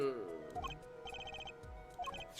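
A cell phone rings in the game Yellow Soul: a repeating electronic ringtone of short chirping trills in bursts, heard over background game music.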